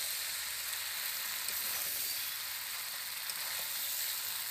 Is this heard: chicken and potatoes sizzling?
yes